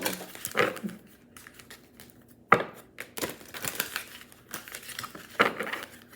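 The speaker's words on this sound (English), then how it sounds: "so at least y'all can see me shuffling the cards" Tarot cards being shuffled by hand, giving soft papery riffles and crinkly bursts that come in irregular clusters, close and fairly quiet, with no talk over them.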